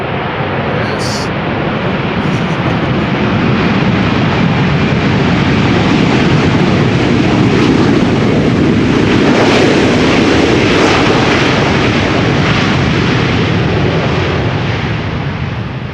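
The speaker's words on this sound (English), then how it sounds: "might be the last time that we're going to see the A340 on the channel, at least from Surinam Airways" A Surinam Airways Airbus A340 roars loudly as it lands at Schiphol Airport using reverse thrust, a broad swelling rush of engine noise building to a peak and then fading.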